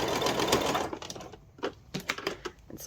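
A sewing machine stitches patchwork, a fast loud whirring run that stops, followed by scattered close clicks and handling knocks of the fabric and machine.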